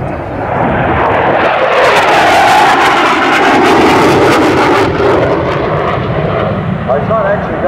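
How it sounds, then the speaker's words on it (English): A US Navy F-18 jet passes low over the runway at an airshow, its loud broadband roar swelling and holding for several seconds before easing slightly, with crowd and outdoor ambience beneath. "Notice also the aircraft doesn't flare prior to touchdown."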